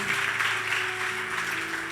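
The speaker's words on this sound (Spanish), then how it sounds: "Demos un aplauso al Señor." A church congregation breaks into sustained applause during a Spanish-language service, a dense, steady wash of clapping that holds at an even level throughout.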